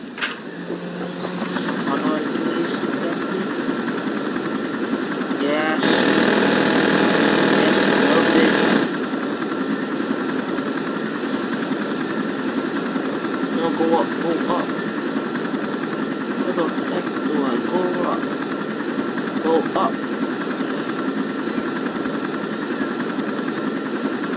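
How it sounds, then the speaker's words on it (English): Helicopter engine in the mobile shooter Blitz Brigade, a steady droning rotor hum throughout with a louder burst early on, while a person talks over it. "Need to get to my chopper."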